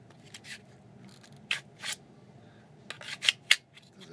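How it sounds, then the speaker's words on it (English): A custom Kydex sheath for a Buck 119 knife gives a few sharp plastic clicks and scrapes as the blade seats and locks in, close up over a low steady background hum. "when it goes in, get that nice lock and click"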